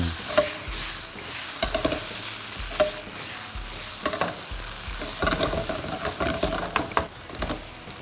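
Mackerel stir-frying in a pan of simmering sauce for stir-fried mackerel with sweet basil, with steady sizzling and repeated scraping stirs of a utensil against the pan, close and clear with no talking.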